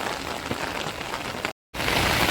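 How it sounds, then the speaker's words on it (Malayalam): Heavy rain pours down steadily in Idukki, Kerala, in a dense hiss of drops on surfaces, briefly cutting to silence before the downpour resumes just as loud. "പരപ്പിലേക്ക് എത്തിയപ്പോഴത്തേക്ക് നല്ല കിടില മഴയായി കേട്ടോ"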